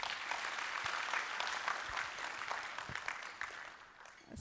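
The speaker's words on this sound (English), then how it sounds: "I think he deserves a better clap." Audience applause at a university placement stakeholder forum, a steady wash of many hands clapping for the full stretch, moderately distant and filling the room with no talk over it.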